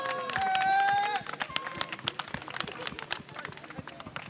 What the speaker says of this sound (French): On applaudit Léna.